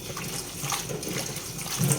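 Fenugreek leaves washed in water in a kitchen vessel, with soft continuous sloshing and splashing close by and no voices.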